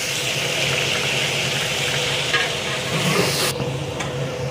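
Onions frying in hot oil with fenugreek, fennel seeds and cumin for a tamarind kara kuzhambu, giving a steady, dense sizzle close by throughout, with a slight shift in texture near the end.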